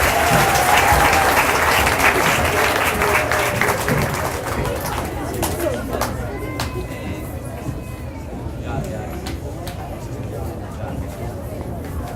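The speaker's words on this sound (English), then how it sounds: "All right, a big round of applause for Miss Goldrick's third grade class" Applause for Miss Goldrick's third grade class at a Focus Learning Academy graduation ceremony for 2017/2018, strong at first and then thinning into scattered clapping, with crowd chatter and voices running underneath throughout.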